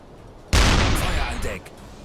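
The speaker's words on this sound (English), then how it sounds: "we'll just attack them with our deck gun" A submarine deck gun on a U-boat fires at ships in a foggy naval video game, a single loud, close blast that decays over about a second, with no voices.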